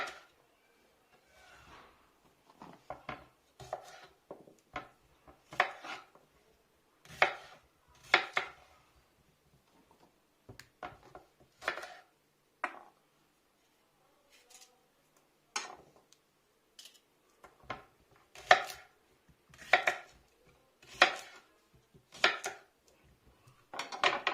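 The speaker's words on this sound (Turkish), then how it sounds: "Acurları şu şekilde doğruyorum." A knife chops gherkins for mixed pickles in rapid bursts of crisp taps on a cutting board, separated by short pauses.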